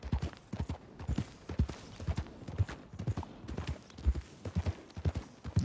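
Horse hooves clip-clop steadily in Red Dead Redemption 2, a close, even rhythm of soft thuds that continues throughout with no voices.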